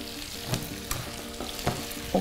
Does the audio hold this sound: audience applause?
no